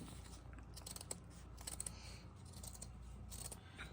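Scissors snip steadily around a drawn circle, cutting paper for a pumpkin gnome craft, with a continuous run of close, quiet crisp cuts and small rustles, no talking.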